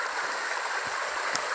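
Water flowing in a shallow forest stream at night, a steady broadband rush with soft low gurgles, moderately loud and continuous, with no voices.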